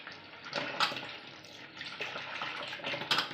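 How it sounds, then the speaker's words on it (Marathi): Tap water runs and splashes steadily, with brief louder bursts as dill greens are rinsed under the stream. "आपण या भाजीला स्वच्छ नळाखाली धुवून घेऊया"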